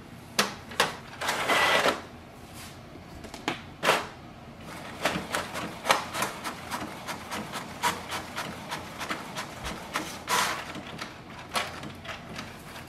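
A Canon Maxify GX6050 printer runs a page through with a steady train of rubbing, whirring mechanical strokes and several louder clunks near the start, close and without speech.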